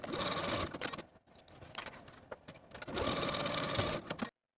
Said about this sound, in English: go to your machine and sew the bottoms of your facings to the bottoms of your dress with a 5/8 inch seam allowance